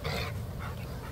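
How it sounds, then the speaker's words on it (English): Farm dogs panting and scuffling in play, a close, steady breathy rasp with a brief whimpering note, continuous for about a second. "the dogs want some attention"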